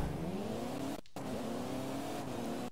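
Car engine in a Forza Horizon 5 race, held at a loud steady roar with rising harmonic pitch as it accelerates, cut by a brief dropout near one second before the revving engine resumes through to the end.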